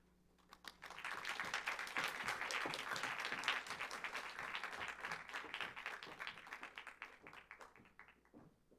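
An audience cheers thesis graduates of a Design for Social Innovation program, with a swell of moderately distant clapping that builds quickly, holds for several seconds and gradually thins out, without talk.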